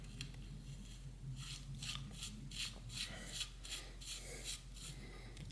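Bicycle bottom bracket lock ring being threaded on by hand, a close, repeated gritty rubbing and scraping in short strokes with a low hum underneath.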